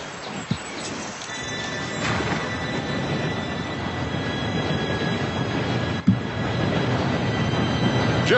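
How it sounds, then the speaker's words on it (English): A steam train rolls in during a Red Dead video game heist scene, its steady rumble and faint high whistle tones running throughout, with horse hooves and snorts mixed in and no talking. "Train should be here any minute now."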